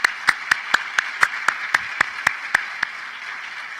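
Steady, evenly spaced hand claps at a memorial celebration of life for a university president, thanking the speakers. About a dozen crisp claps ring out in a regular rhythm, then stop, leaving a quiet room tone.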